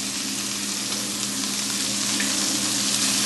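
String beans and chestnuts sizzle steadily in brown butter, a continuous close crackling fry with faint stirring and no voices.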